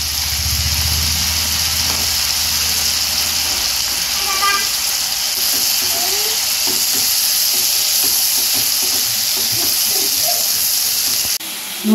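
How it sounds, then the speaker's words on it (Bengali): Ground spice paste frying in a pan for a dhaba-style Punjabi egg curry, a loud continuous sizzle and hiss with bubbling crackles, close and steady, a low rumble early on. "একটু ভেজে নিব, তারপরে মশলাগুলো অ্যাড করব।"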